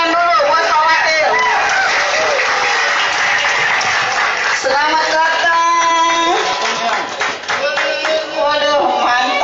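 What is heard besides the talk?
audience applause welcoming a guest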